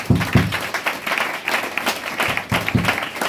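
A church congregation applauds and cheers God in a dense, steady roar of clapping with rhythmic bursts, close and loud throughout.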